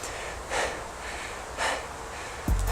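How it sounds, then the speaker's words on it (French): Rhythmic breathing during an outdoor bodyweight workout: two strong airy exhales about a second apart, each swelling and fading, close and fairly loud, with a brief low thump at the end. "Écoutez le rythme de ma respiration."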